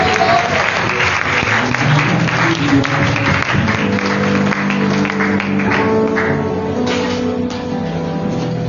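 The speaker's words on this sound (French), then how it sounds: "Est-ce qu'on peut donner une forte acclamation à Jésus?" A church congregation at a sermon applauds and cheers loudly for Jesus, a continuous, full roar of clapping and voices with a musical drone underneath.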